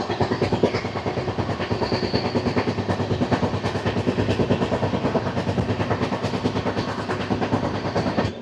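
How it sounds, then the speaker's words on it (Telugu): Passing train heard at Chirala station while passengers wait on the platform, with one wheel that has a flat spot, giving a loud, continuous rolling rumble with a rapid rhythmic thumping beat throughout. "Flat wheel sound."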